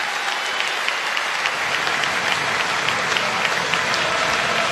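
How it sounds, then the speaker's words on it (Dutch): Audience applause at a handball tournament final award ceremony, sustained, dense clapping from a large crowd in an indoor hall, even and loud throughout with no speech over it. "Dames en heren, applaus voor onze Spaanse Bekoeling geleen."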